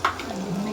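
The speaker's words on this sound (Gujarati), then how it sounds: "અને ટમેટા નાખશું." Tomatoes dropped into a hot pan with turmeric, chilli and coriander-cumin powder for Gujarati khichdi, giving a brief sizzle and stir that rises sharply and then settles into a soft, close frying hiss.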